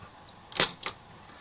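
Nikkormat FT2 film SLR camera shutter release, a crisp mechanical clack followed quickly by a softer second click, close and alone in a quiet room.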